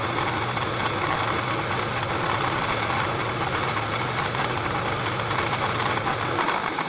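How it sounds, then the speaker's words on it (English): A 1/16 drill bit spins at high RPM in a machine set to high gear, a steady loud motor drone with a continuous whirring hum and no voices. "I've switched us out to a 1/16 drill. And I got us in high gear."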